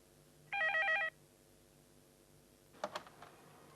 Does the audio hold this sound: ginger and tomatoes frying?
no